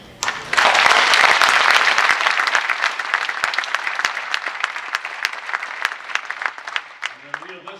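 Political rally audience applauding a governor's address at a union event, a dense sustained burst of clapping that swells early then slowly thins, with a voice emerging near the end.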